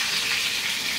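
Zucchini slices fry in hot oil in a pan, giving a steady, close, bright sizzle that stays even through a brief moment with no voices.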